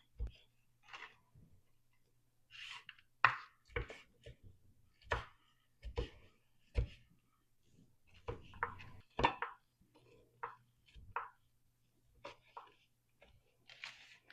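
A sharp kitchen knife chopping potatoes and other soup ingredients on a cutting board, giving irregular crisp taps and knocks close by with short pauses between bursts, and a low steady hum under it.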